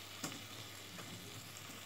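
Potatoes frying in a pan, with a soft, steady sizzle and faint crackle throughout and one small tick near the start, at a low level.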